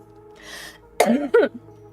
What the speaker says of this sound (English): So I have to blow my nose.